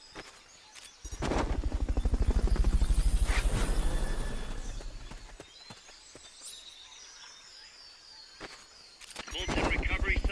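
Helicopter in the Metal Gear Solid Peace Walker video game, its rotor chopping up loud for several seconds, easing off, then returning at the end, with game effects and chirps around it.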